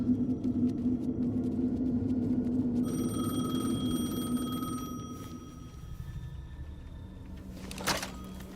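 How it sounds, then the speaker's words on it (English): A payphone rings inside the video game Alan Wake 2, its tonal ringing steady and fairly loud against a dense low game ambience, fading out toward the end before a brief bright burst. "The payphone was ringing."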